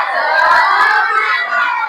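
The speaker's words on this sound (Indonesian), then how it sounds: "kita tepuk semangat dulu yuk" A classroom of primary-school children doing a rhythmic spirit clap together, a loud dense burst of many small hands mixed with excited shouting voices, continuous for about two seconds.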